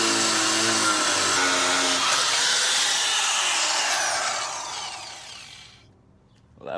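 An angle grinder bites into a stuck suspension part on a Honda Ridgeline during a leveling kit install, a loud continuous harsh whine that holds for several seconds and then winds down into near silence.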